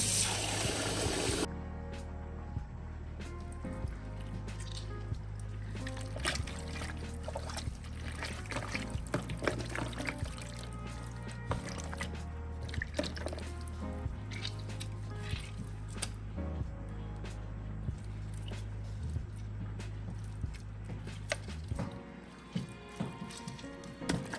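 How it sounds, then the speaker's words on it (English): Raw chicken from an old layer hen being washed by hand with water and lemon for a stew, a continuous wet sloshing, squishing and trickling with a low hum underneath, close and steady throughout. "going to wash it first and then use lemon to wash it like twice so that it will be so clean."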